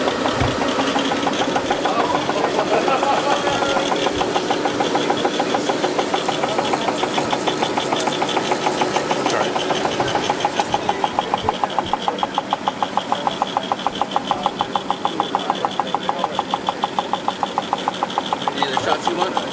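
Steady mechanical clatter of a flexographic printing machine running continuously, a fast regular rhythm with a constant hum, close and loud throughout.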